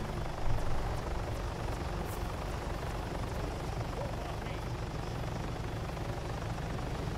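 A military helicopter in the video game ARMA 3 gives off a steady, loud rotor and turbine drone that holds evenly from start to finish, with no voices heard over it.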